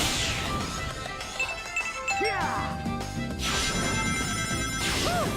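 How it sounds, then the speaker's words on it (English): Cartoonish impact and crash effects from a One Piece Luffy mod in Sonic Unleashed, a rapid string of smacks, clinks and zinging slides layered over game music and voice bits, loud and close throughout. "a really easy way to get Luffy sound effects"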